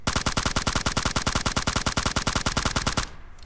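Automatic rifle fitted with a grip firing in PUBG Mobile, a rapid, even string of loud shots that stops abruptly near the end, with no talk over it.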